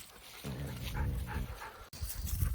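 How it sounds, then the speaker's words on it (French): Excited dogs whimpering and yipping close by, a continuous restless whine with short yelps, just before the dogs are hitched to a new Devaaant Standard scooter for dog-powered riding. "les chiens sont hyper excités"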